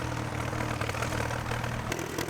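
A rare International O14, the orchard version of the W14 two-furrow tractor, runs at a working event, its engine thudding in a steady low rhythm at close range.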